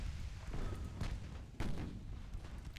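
Light cruiser guns opening fire in the naval game Ultimate Admiral: Dreadnoughts, heard as a couple of deep booming shots over a constant low rumble of sea and engines.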